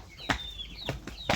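Chickens on a backyard farm where ducks are also kept, giving a few short clucks and squawks in three bursts, close and moderately loud, with no talk.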